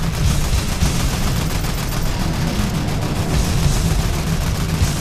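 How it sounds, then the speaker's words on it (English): Continuous Fortnite gunfire rattles without pause at a concert live event, dense rapid shots layered into a loud, unbroken wall of noise with no talk. "You just never stop shooting."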